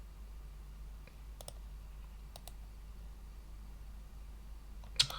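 Several isolated, faint clicks from a computer mouse sound against a quiet low hum, spaced irregularly, with a slightly louder cluster near the end.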